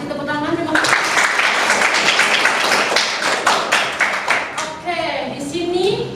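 A classroom of students applauds during an economics lesson: brisk, dense clapping with distinct sharp hand taps, brief speech before it and a voice returning near the end.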